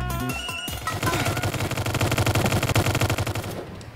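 Gunfire in an old Roblox video game, with dense rapid machine-gun bursts rattling on continuously at close range and loud volume, cutting off just before the end.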